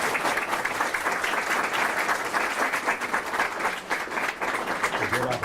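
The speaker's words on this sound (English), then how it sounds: "Ladies and gentlemen, let's give Christina and the Governor another round of applause." Audience applauding steadily for NASA astronaut Christina Koch and North Carolina Governor Roy Cooper at a live STEM event, a dense, continuous round of clapping filling the room.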